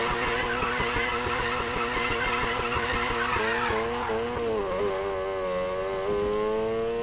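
Mazda RX-7 with a new exhaust in the Need for Speed Payback racing game, its rotary engine revving hard and steady, pitch climbing and shifting through gears, loud and close with no talk over it.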